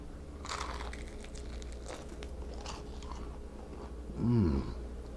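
Crunchy cooked hot wings being bitten and chewed close to the mic, soft crunching textures through the clip, then a louder crackling bite near the end over a quiet low hum.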